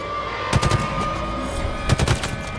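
Gunfire in Halo Infinite, two short bursts of rapid automatic shots roughly a second and a half apart, loud and close over a low humming ambience.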